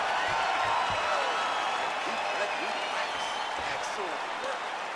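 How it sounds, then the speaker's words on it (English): Crowd applause and cheering fill an arena after a round in the video game EA Sports UFC 4, a steady wash of clapping and whoops with a commentator talking over it. "the crowd voicing its appreciation after that round"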